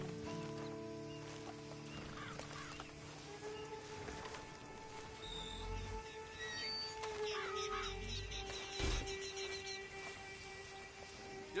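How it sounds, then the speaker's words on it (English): Horse hooves clip-clop at a steady pace while riding in Red Dead Redemption 2, fairly quiet beneath game music and ambient sound, with a few louder thuds. "Then you better get on this horse."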